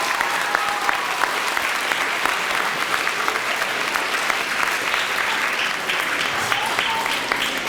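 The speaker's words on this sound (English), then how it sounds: "Students, let's give them a round of applause because they deserve it." Students applauding their teachers at a school event, a dense, sustained round of clapping from a large group with occasional sharp individual claps standing out, steady loudness throughout.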